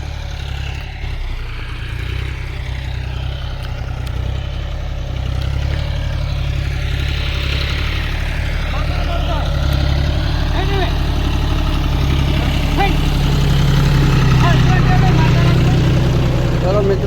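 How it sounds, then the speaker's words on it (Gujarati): A tractor engine idles in a farm field where sorghum is being sown, a steady low rumble that grows slightly louder over time, with people talking over it. "ટ્રેક્ટર જોઈ લેજો"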